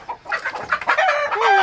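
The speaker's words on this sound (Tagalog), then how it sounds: "baka lumabas yung mga manok" Chickens clucking with a rooster crowing indoors at a home, several birds overlapping in a short, fairly loud burst that ends on a drawn-out crow.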